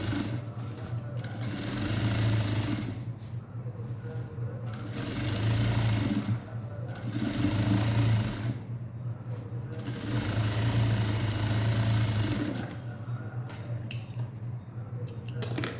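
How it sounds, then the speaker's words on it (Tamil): A sewing machine runs a double stitch on a frill gown, whirring in repeated bursts of a few seconds each with brief pauses between, close and steady. "இப்போ நான் டபுள் ஸ்டிச் போடுறேன்"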